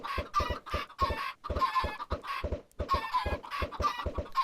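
Chickens cluck in a Minecraft farm pen packed with dozens of birds, a steady flurry of short, overlapping clucks and squawks with brief pauses.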